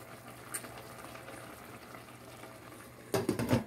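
Spaghetti simmers in a pot on the stove with a steady, soft bubbling hiss, then a louder burst of clinking and stirring near the end.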